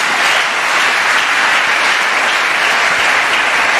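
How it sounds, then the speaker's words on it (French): A church congregation applauding Jesus, a steady, dense wash of clapping that holds at full strength throughout without pause. "Acclamons Jésus."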